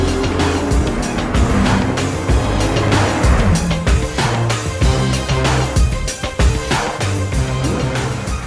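A 2019 Toyota Supra drives hard during final testing, its loud engine roaring continuously with tire squeal and rapid revving close by, with no voices.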